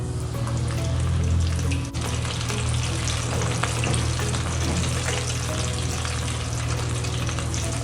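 About ten cloves of crushed garlic frying in hot oil give a dense, loud, continuous sizzle and bubbling, close by and with no talk.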